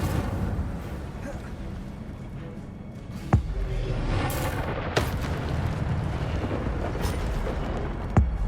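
Incendio fire spell bursts in Hogwarts Legacy during a fight with guards, loud whooshing blasts with a few sharp impacts over constant rumbling battle noise.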